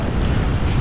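Strong wind buffeting a microphone, a dense roaring rumble that stays loud and steady for under a second.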